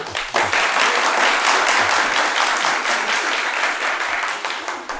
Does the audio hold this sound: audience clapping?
yes